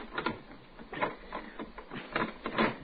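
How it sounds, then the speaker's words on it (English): A lock bolt is twisted in a radio drama sound effect, with a series of four or five close mechanical grinding and clicking bursts at an uneven pace over quiet room tone. "if I can twist this bolt."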